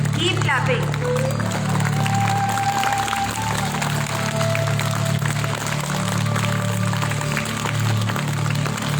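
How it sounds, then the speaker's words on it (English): Children applauding together at a Diwali celebration, a steady sustained wash of clapping running the whole time with a crowd murmur beneath. "Keep clapping."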